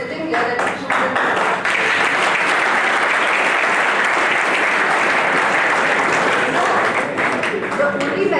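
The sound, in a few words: audience applause at orientation programme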